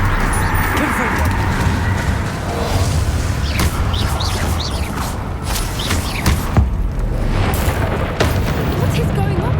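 Confringo blasting spells explode in Hogwarts Legacy during a catacomb fight, dense rumbling booms and crackles stacked over constant combat noise, with a player shouting throughout.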